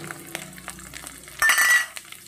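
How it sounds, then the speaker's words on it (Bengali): Green chillies and garlic hit hot oil with a sudden bright sizzle that swells and holds for a moment before easing back among faint kitchen clinks. "ওই তেলে আমি দিয়ে দেব কাঁচা লঙ্কা আর রসুন।"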